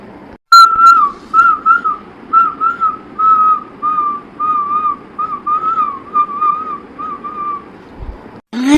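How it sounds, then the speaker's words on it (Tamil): A person whistles a steady, loud melodic tune of repeated short notes for several seconds near a women's bathing spot, heard alone without talk. "யார் விசில் அடிக்கிறதுன்னு தெரியலையே"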